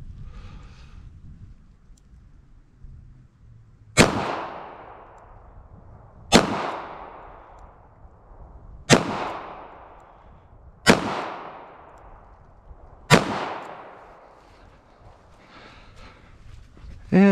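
.38 Special revolver shots fired at a target from 7 yards, five sharp loud reports spaced two to three seconds apart, each with a booming decay, close and alone with no talk.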